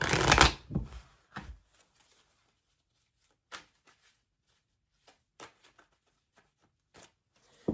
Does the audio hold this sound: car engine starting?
no